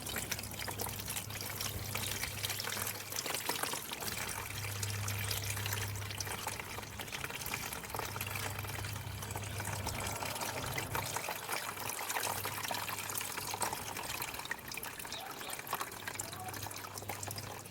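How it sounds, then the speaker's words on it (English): Water is poured slowly and steadily off settled homemade clay sludge. A soft, continuous trickle and gentle gushing runs quietly for the whole stretch, with a faint low hum underneath. "Trying to pour slow and steady."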